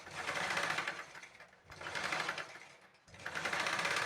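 A sewing machine stitches blouse lining in three steady, rapid bursts of whirring needle action separated by brief pauses, close and clear with no talk.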